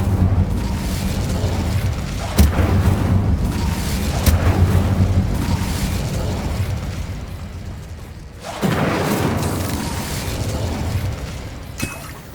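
The Incendio fire spell is cast during combat in Hogwarts Legacy, producing a dense, continuous whooshing roar broken by several sharp booms and bursts, with a renewed surge of flame near the end and no voices.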